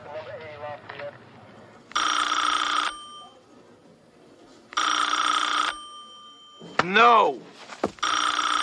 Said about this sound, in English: Just answer the phone, wimp. Pick it up.